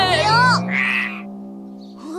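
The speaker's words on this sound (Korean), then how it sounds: "개구리네." A frog croaks in a cartoon scene, one loud close call with a wavering, throaty pitch that settles into a low sustained drone.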